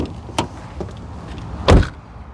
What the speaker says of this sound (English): Listen to the sound of the closing door.